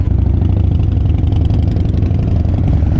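A Royal Enfield Interceptor motorcycle idles up close, its engine putting out a loud, steady, rhythmic thump that stays even for the whole stretch.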